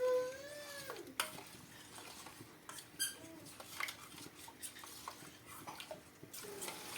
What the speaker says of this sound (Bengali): এবার একটি চামচ দিয়ে ভালোভাবে মিশিয়ে নেব দুধ